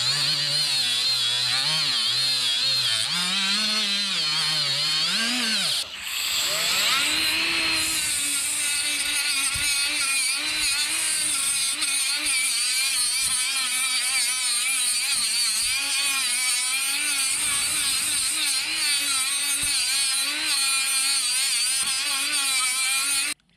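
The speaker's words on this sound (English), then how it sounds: "We're just gonna take a flat wheel and clean all the rust and crap out of it." A die grinder fitted with a flap wheel scours rust from parts of a custom diesel zero-turn mower, its loud, continuous high whine shifting in pitch as the load changes, with a brief dip near the start.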